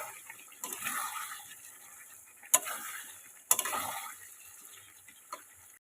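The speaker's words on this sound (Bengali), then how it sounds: "আলু দিয়ে এবার ভালো করে মশলার সাথে কষিয়ে নেবেন।" Potatoes fry with masala for a mutton kofta curry, giving a soft steady sizzle while a spatula stirs. Two sharp clacks stand out against the pan, followed by a lighter tap near the end.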